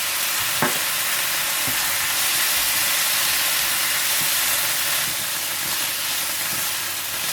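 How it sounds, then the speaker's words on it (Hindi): Chili garlic sauce and soy sauce frying in a pan with a steady loud sizzle and hiss, and a few faint stirring knocks. No voices. "चिली गार्लिक सॉस और सोया सॉस डालकर अच्छी तरह से फ्राई कर दें"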